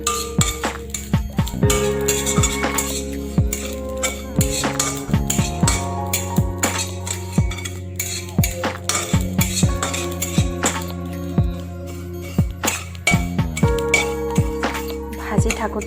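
A metal spatula strikes a hot wok again and again while spices are lightly dry-roasted for a sweet olive pickle. The clanks come close and sharp in a quick, uneven rhythm under a steady tonal hum.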